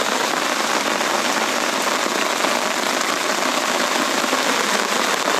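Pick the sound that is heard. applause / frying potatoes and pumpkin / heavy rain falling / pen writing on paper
heavy rain falling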